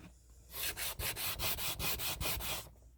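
Repeated sanding strokes on a wooden thrift store piece, roughly ten rhythmic rasping passes in about two seconds, close and loud with brief pauses between strokes, no talking.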